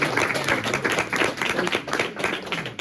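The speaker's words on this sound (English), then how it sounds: "we give Parrish and Allen a round of applause" Audience applause after two people are introduced at an event, a dense steady wash of clapping hands that carries through the whole stretch with no voices over it.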